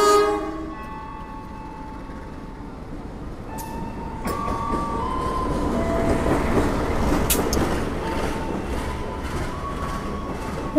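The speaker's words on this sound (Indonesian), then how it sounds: "Rangkaian kereta api Jakatingkir sudah masuk di jalur 3" Jaka Tingkir passenger train pulling into Purwosari station, with a sustained rumble of cars rolling in, rising clatter and a brief horn-like tone near the start, loud and close.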